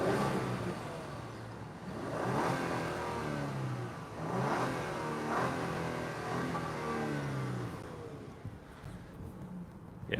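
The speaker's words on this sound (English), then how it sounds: "let's start it up. And then I'll give it a couple revs and hang this out to the side so you can hopefully hear it." A 2021 Genesis GV80 3.5T AWD starts up and revs a couple of times, its engine rising and falling in broad swells, heard from a distance away from the exhaust, softening near the end.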